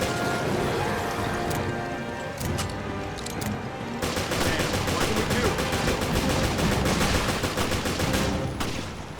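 Gunfire in the video game Resident Evil: Revelations: dense, rapid shots that become a continuous loud barrage in the second half, close and unbroken, with no talk over it.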